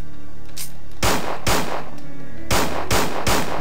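Loud gunshots are fired at a zombie in Resident Evil 2: a faint first shot, then five sharp, close reports spaced about half a second apart, with a short pause in the middle.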